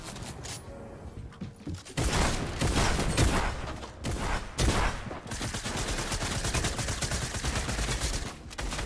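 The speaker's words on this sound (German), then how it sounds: "Einfach durch Sachen schießen." Fortnite gunfire: a short burst, a pause, then loud rapid shots rattling almost without a break, each heavy blast standing out above the steady automatic fire.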